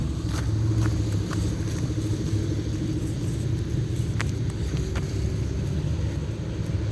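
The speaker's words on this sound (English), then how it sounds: "now I see all these cars turning in" A steady low rumble of cars turning in on a snowy street on a cold morning, a continuous traffic drone heard at a moderate distance.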